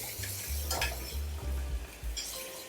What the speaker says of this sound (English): we're gonna add some of this flavorful mixture of garlic and ginger.